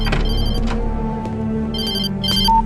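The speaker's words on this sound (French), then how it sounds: "Puis dans le commissariat, il reçoit un appel très important, je vous laisse écouter ça." Telephone ringing with an incoming call inside a police station in a horror game, sounding loud and close in repeated electronic bursts over a low steady hum.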